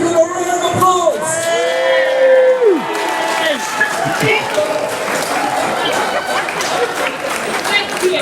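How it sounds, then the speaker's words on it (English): A crowd at a Halloween Hoedown van life festival in Newbury whoops and cheers, then breaks into steady applause and chatter that carries on for several seconds. "Ladies and gents, please give them a round of applause."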